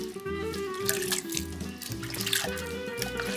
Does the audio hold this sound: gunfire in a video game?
no